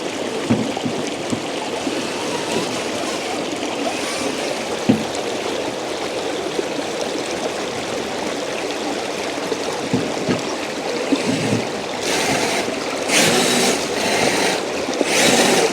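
Wheels spin and churn through deep water in a continuous loud rush of splashing and sloshing, with harsher bursts of spray near the end.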